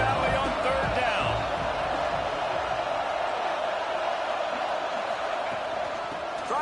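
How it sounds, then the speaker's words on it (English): A big football crowd at Happy Valley roars through a third-down play, a loud, continuous wall of noise that barely eases, with a commentator's voice running over it. "Here comes the noise from this big crowd in Happy Valley on 3rd down."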